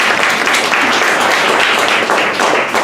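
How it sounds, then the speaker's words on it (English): An audience bursts into dense, loud applause at a business talk, a continuous wash of many hands clapping without letting up. "please give her a round of applause"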